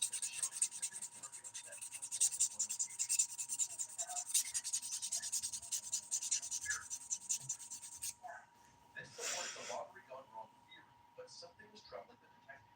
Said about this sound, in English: I'm using a sponge file to do my buffing